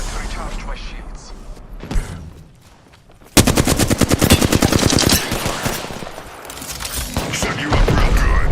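Automatic weapon fire in the video game Apex Legends, with a loud sustained burst of rapid shots after a brief lull, preceded by scattered thuds and mechanical clicks, close and dense, with in-game voice chatter mixed in.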